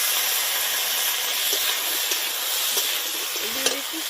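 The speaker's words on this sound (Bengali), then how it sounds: "আলুটা ভাজা ভাজা হয়ে গেছে" Potatoes fry with chopped green chili in hot oil in a pan, giving a dense, even sizzle that holds steady throughout, close and loud, with a few faint clicks of stirring near the end.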